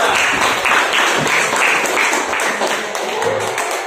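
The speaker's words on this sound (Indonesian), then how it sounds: "Oke, tepuk tangan buat kelompok 3." A classroom of students applauding a presenting student group, a dense, continuous burst of clapping close by, mixed with scattered voices and chatter throughout.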